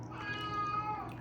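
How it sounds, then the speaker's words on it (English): A senior male house cat gives one drawn-out, fairly quiet meow indoors, close by, with no talking over it. "That's my cat."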